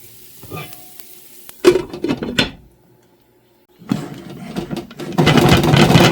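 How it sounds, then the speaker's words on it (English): Oil spitting and splattering in a damp pan on a stovetop before popcorn goes in, with sharp crackling bursts, a short quiet gap, then loud, sustained sizzling close by. "Make sure there's no moisture in your pan or it will splatter like this."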